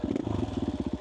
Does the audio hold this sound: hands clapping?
no